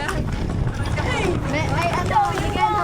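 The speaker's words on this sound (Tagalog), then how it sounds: "Maawa kayo sa kabayo." Horse hooves clip-clopping on a vacation outing in Cagayan, close and rhythmic beneath excited overlapping voices talking and shouting.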